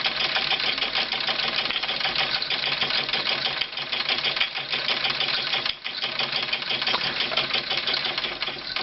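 A model steam engine drives an Erector set oil rig, a steady fast mechanical clatter and chuff that runs continuously and loud at close range with no voices.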